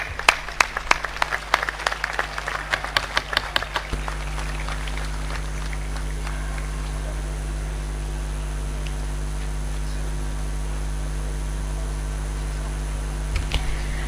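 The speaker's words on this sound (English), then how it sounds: "Kindly give a huge round of applause to all the awardees" Applause for awardees at a university convocation ceremony, crisp clapping for about four seconds that then gives way to a steady hum of hall noise with a few faint claps near the end.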